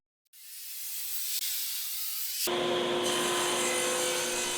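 A saw cuts through plywood while organizing a workshop, starting after a brief pause with a steady hissing, rasping cut that grows louder and harsher midway, continuous and close with no talking.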